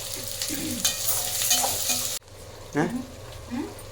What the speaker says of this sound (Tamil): வணக்கினதுமே இஞ்சி பூண்டு பேஸ்ட் போட்டு வணக்கிட்டு அதுக்கப்புறம் நம்ம வேக வச்ச மட்டனை தூக்கி உள்ளே ஊற்றிருக்கேன்